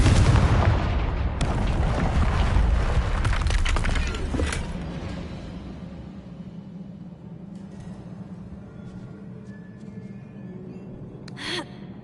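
A Confringo spell explodes in Hogwarts Legacy with a loud, booming burst that rumbles on for several seconds, then fades into a quieter ambient hum with a faint whoosh near the end.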